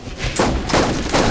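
Gunfire in the video game Borderlands comes in rapid, sustained volleys, with three loud surges in quick succession over a steady crackling barrage.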